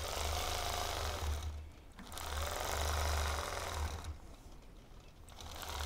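A sewing machine stitches a quilting crosshatch guided by a ruler, its steady needle chatter running in close, loud bursts that pause and restart as the fabric is repositioned.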